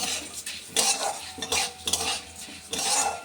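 Kalmi greens get stirred in a pan with a metal utensil, sharp scraping clatters and clinks arriving in uneven bursts over a light sizzle, close and fairly loud.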